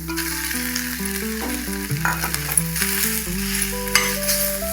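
Cooked rice being mixed into a sizzling mango ginger rice mixture in a pan, with brisk stirring and frying sounds close up under steady background music.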